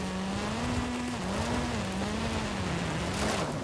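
A car drifting sideways on snow in a racing video game: loud steady engine drone with a pitch that wavers up and down as the car slides, under a broad hiss of tires on snow, with no talking.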